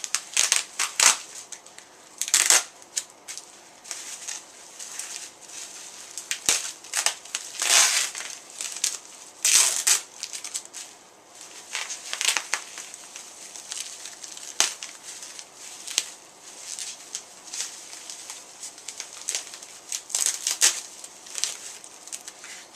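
Crinkling, tearing and rustling of packing tape and cardboard while a package is opened, a steady run of loud, close crackles and rips with short pauses.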